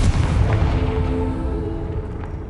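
A Confringo fire spell in Hogwarts Legacy on PS5 bursts in a heavy booming blast, a loud low rumble that decays over a couple of seconds with no talking.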